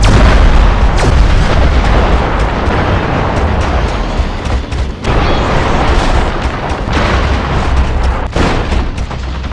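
A loud, sustained explosion destroying an alien base, a thick roaring blast with heavy low rumble and repeated cracking bursts layered over each other, dense and close throughout with no speech.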